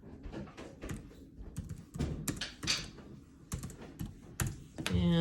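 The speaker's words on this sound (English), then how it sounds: "I'm typing this into the calculator" Quick irregular taps of someone keying numbers into a calculator, close and fairly quiet, with short pauses between bursts of presses and a brief tonal blip at the end.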